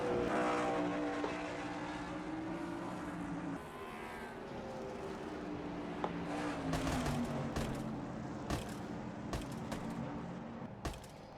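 Simulated race cars rev and downshift through turn 7 at Sonoma in a racing game, a steady loud engine drone with shifting pitch and several sharper passes near the end.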